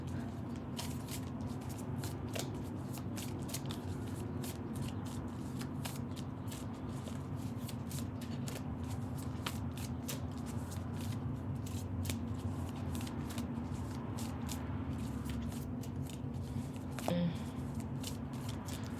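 Tarot cards are shuffled by hand in quick repeated riffles and slides, a crisp papery flutter recurring throughout at modest volume, with a few soft taps in between.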